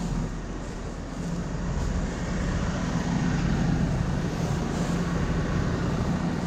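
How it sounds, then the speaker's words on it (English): A steady, loud mechanical roar of a small New Holland T4 tractor driving a straw chopper, running continuously, dense and droning with no pauses or voices. "good little chopper this is"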